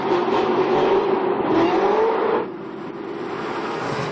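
A Chevrolet Corvette ZR1 accelerating hard on a slick floor, its engine roaring loud and close with a rising whine as it struggles for traction, then dropping abruptly to a quieter, steadier drone partway through.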